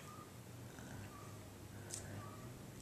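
A cat purrs steadily, very faintly and close, as a low continuous rumble with soft hiss around it.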